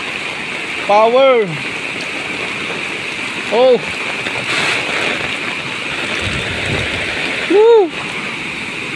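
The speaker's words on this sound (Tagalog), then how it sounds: "ayan ang baha sa ilog," A flooded river rushes in a steady, broad roar that runs throughout, while voices call out over it in three short exclamations.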